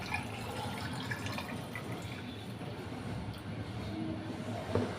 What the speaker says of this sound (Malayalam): ഇനി ഞാൻ ചുർക്കയും വിനാഗിരിയും വെള്ളം കൂടെ ഒഴിച്ച് കുപ്പിയിലേക്ക് ആക്കി വെച്ചിട്ട്